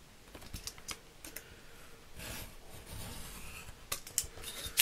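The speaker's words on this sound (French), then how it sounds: "Je vais couper toute la longueur" Paper for a Christmas scrapbook album page being cut along its full length, with close crisp snips and slicing scrapes, a few sharper clicks and a steady rub in the middle.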